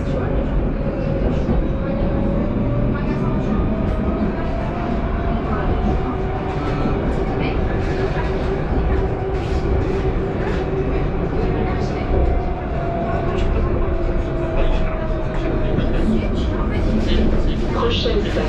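Riding inside a Mulhouse line 1 tram between Châtaignier and Gare Centrale: a continuous loud rolling rumble with rail clatter and squeal throughout, with voices present over the noise.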